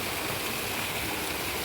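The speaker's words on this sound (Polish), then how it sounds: "jest to jeden nawet z mniejszych wodospadów" A small waterfall in the Sri Lankan mountains rushes in a constant, dense wash of falling water, steady and close with no pauses or voices.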